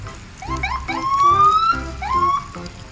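A toy police patrol car siren gives repeated rising electronic wails in short, looping bursts, moderately loud and close, with no talking.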